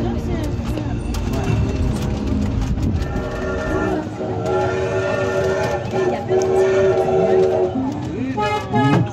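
A small SNCF tourist train rolls steadily through Royan with continuous running rumble and rattle throughout, while a loud recorded voice talks over it.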